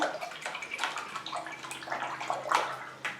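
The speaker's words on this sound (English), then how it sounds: "clean it in the water." A watercolor brush swishes and sloshes in a water container as it is rinsed, close and bright, with repeated splashy strokes and no voices.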